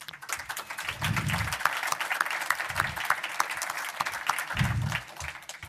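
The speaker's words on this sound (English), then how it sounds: "Polite applause, thank you." A panel audience at a fan convention gives polite applause, a steady wash of many hands clapping at moderate volume, with a few low thumps.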